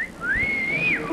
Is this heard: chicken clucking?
no